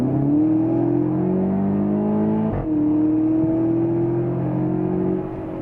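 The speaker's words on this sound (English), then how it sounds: "Audi TT sounds great, and in dynamic mode, which I shall engage right now with this drive select button here, it sounds even better" A 2014 Audi TT quattro engine in dynamic drive mode runs loud and steady, with a rising harmonic drone and a brief dip mid-way like a gear shift before it pulls on again.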